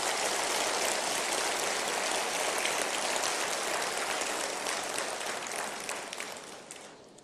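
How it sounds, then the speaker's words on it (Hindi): Sustained applause from a seminar audience in Jaipur greeting the Vice President, a dense even patter of clapping that holds steady and thins slightly toward the end, with no voices over it. "एक बार जोरदार तालियों से आप उनका स्वागत करें।"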